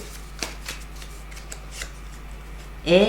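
Tarot cards are drawn and shuffled from a deck, giving soft, scattered card flicks and slides close by over a steady low background hum, and a voice starts speaking at the end.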